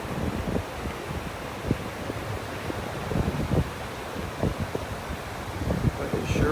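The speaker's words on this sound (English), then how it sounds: "the sound of these waves out here this morning" Ocean waves wash onto a North Naples, Florida beach on a breezy morning, a steady broad rush with soft rhythmic surges and low wind buffeting the microphone, no voices.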